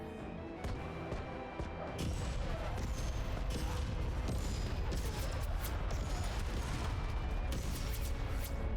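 A gunfire volley erupts in the tactical game Menace, set on expert difficulty. Dense overlapping shots and booms begin about two seconds in and run on as a loud, continuous barrage.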